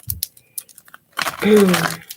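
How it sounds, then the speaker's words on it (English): Tarot cards being shuffled during a reading: a few soft taps and flicks, then a burst of riffling card noise with a brief voice sounding over it. "let's go ahead and get some shuffles on here for you"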